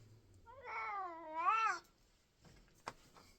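A house cat gives one long, drawn-out meow with rising and falling pitch, close and clear, followed by quiet room noise and a brief knock.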